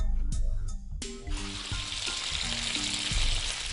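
Pork sizzles loudly in hot olive oil in a preheated pan: a sharp burst of frying as the meat goes in, then a steady, dense crackle and hiss with a few clinks of utensils.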